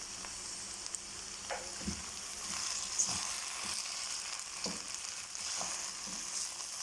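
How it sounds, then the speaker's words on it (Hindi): Okra fries steadily in a pan for bhindi masala, a continuous soft sizzle with occasional light stirring scrapes and taps, fairly quiet and without talk. "भिंडी में देखें मैंने अच्छे से फ्राई कर ली है।"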